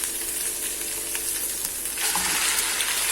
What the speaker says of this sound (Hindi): और इसको 5 मिनट तक हम फ्राई करेंगे, जब तक कि इसका कलर ना चेंज हो जाए।